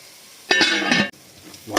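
Fish masala with tomato cooking in a pan as a lid goes on, giving a close, steady sizzle and hiss of frying with a brief clink of metal, then the sound drops to a low simmer.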